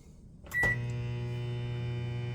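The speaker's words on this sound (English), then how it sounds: "It's like the microwave is struggling." A microwave oven powered by an AllPowers R1500 power station starts with a click and thump, then settles into a strained, steady electrical hum that drones on unbroken.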